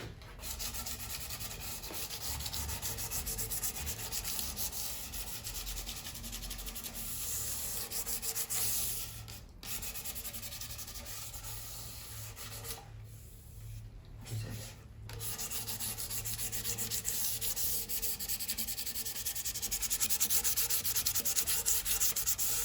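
Steady, continuous rubbing of fine sandpaper over a wooden saz body by hand, a soft even rasp that continues with only brief pauses.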